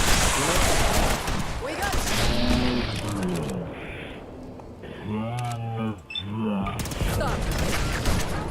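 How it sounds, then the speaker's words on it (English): Gunfire and grenade blasts in the Sim Settlements 2 video game, sharp bursts and booms mixed with clamorous noise, heard under frequent excited talking and shouting. "What idiot keeps throwing grenades?"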